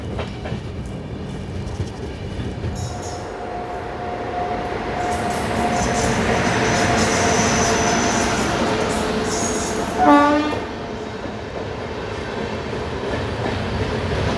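The Sabarmati Express, running from Ahmedabad to Darbhanga, passes with a steady rolling rumble that swells and fades, rhythmic wheel clatter, and a short high squeal partway through, with no voices.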